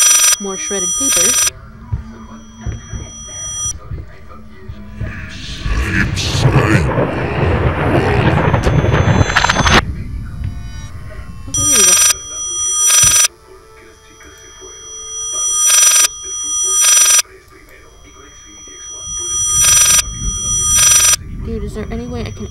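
Telephone ringing in the horror video game Layers of Fear, repeated rings in regular bursts with pauses between them, over a low hum, with rumbling game sounds and people talking.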